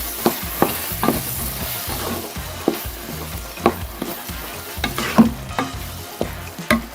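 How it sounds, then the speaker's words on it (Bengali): Chickpea bhuna with fresh coriander leaves being stirred in a pan: close, rhythmic scraping strokes of a spoon repeat about every half second over a soft sizzle, with no voices. "এখন এটাতে দিয়ে দিচ্ছি ধনিয়া পাতাটা দিয়ে আবারও ভালো করে মিশিয়ে নিচ্ছি"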